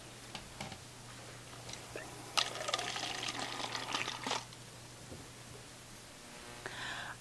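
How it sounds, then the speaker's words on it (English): Water poured into a lab calorimeter: a steady splashing pour swells for about two seconds in the middle, with faint clinks before and after and a low mains hum underneath. "I add the water"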